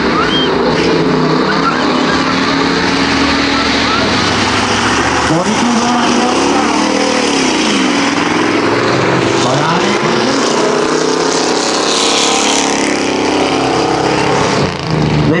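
Stock cars with 8-cylinder engines race in a heat of 10 laps, their loud continuous engine roar rising and falling as cars pass, with a commentator talking over it.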